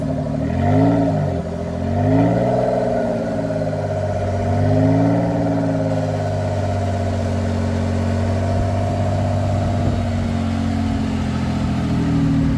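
A hot rod engine revs repeatedly in loud, rising and falling surges, then settles into a steady, throaty idle-like drone, close and alone without talk.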